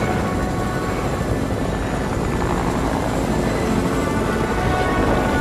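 Steady, loud aircraft engine drone from planes flying high in the Fortnite video game, a continuous broadband roar with no talk over it.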